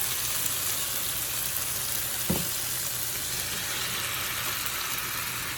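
Steady, close sizzling fills a hot pan cooking tomato and onions, with a single soft thud as shrimp go in, then the frying hiss continues evenly.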